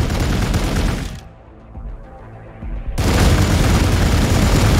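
Units in the Warhammer 40,000: Gladius – Relics of War strategy game open fire with loud, heavy booming volleys that cut out briefly mid-way, then resume as dense, continuous battle fire.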